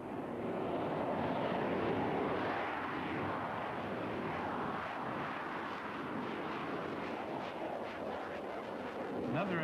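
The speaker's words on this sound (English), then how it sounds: "Another aircraft taking part in each day's four-hour flying display was the Dassault Mirage 2000." A Dassault Mirage 2000 jet flies in the display at the 1988 Farnborough International air show, giving a loud, continuous roar that fills the whole stretch without a break.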